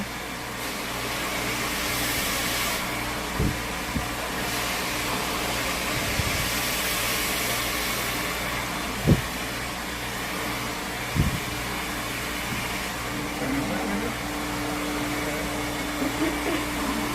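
A handheld blow dryer runs steadily throughout, its broadband airflow hiss pointed downward at hair during a blow-out, with a few brief clicks and handling knocks over the continuous whoosh.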